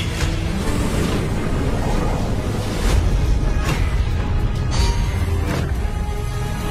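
Rumbling explosion effect from an animated treasure-chamber scene, a dense low roar with several sharper bursts layered over a steady blasting wash throughout, no voices.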